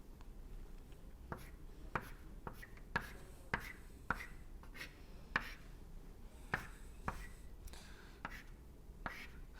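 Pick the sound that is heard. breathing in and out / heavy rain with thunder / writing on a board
writing on a board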